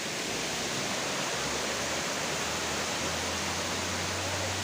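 A tiered waterfall at Nang Khruan in Tak province, Thailand, pours as a steady, dense roar of falling water that holds evenly throughout with no voices.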